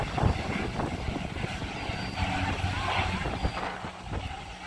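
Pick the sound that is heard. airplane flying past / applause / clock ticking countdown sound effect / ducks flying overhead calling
airplane flying past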